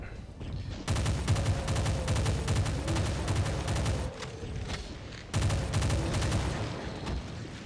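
An assault rifle in the video game Doom fires in long, loud, rapid automatic bursts. A short pause breaks the shooting before the firing resumes, and no one talks.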